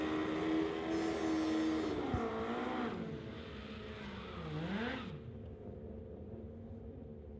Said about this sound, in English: Great racing action.